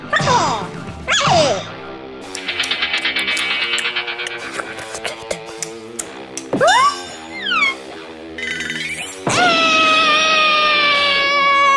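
A cartoon dog in a Japanese children's anime yips and barks in short bursts among music and bright sound effects, fairly loud and up front.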